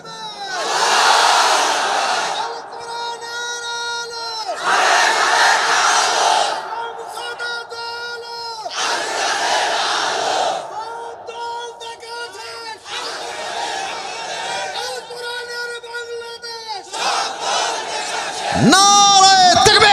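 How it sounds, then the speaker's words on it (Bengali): A large crowd at a religious gathering in Lalmonirhat chants slogans in loud, repeated bursts of massed voices, each burst lasting a couple of seconds and separated by short lulls, with a lead voice calling out between them. "আপনারা যে স্লোগান দিয়েছেন প্রমাণ হয়ে গেছে"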